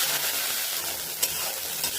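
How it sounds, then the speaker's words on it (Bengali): Small shrimp fry in hot oil with a steady, close, crackling sizzle, one brief sharper pop standing out midway. "চিংড়িটা আগে ভেজে নিব"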